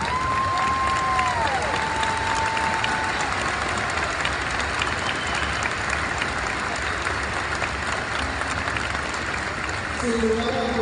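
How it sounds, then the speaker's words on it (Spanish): Sustained applause from a large crowd for professors at a graduation ceremony, a dense, even roar of clapping lasting about ten seconds, with a short tonal sound near the start and brief voices over it. "tenemos que dar un aplauso."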